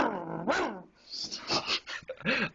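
A man mimics a dog and a wolf with his voice, giving a few growling, whining yelps and rising-and-falling howls close up. The bursts are broken by short gaps and breathy noises.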